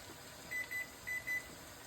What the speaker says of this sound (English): Once I set them in there, I'm gonna go ahead and put my timer on.